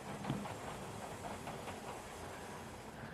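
A Hornby model railway train rolls over the points into a small station, giving a faint, close clickety-clack with soft rolling hiss and no voices.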